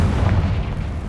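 Confringo blasting spell explosion in Hogwarts Legacy, a single deep, loud boom with a rumbling low-end tail that fades slowly.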